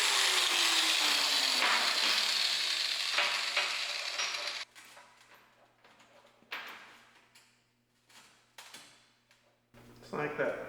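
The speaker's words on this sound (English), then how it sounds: "just gonna weld them directly to the top of the bucket" Welding chain hooks onto a steel tractor loader bucket gives a loud continuous crackling sizzle at first, then shorter bursts of arc crackle with gaps between them.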